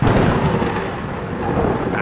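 A heavy night thunderstorm, dense pouring rain with a deep rumble of thunder, loud and continuous.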